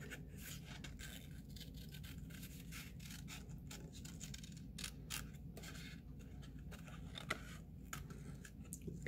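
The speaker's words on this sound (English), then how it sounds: "I'm going to quickly fussy cut this if I can" Scissors fussy cutting around a design on a paper card, a soft, steady run of small snipping and rustling scrapes, close and quiet, with no talking.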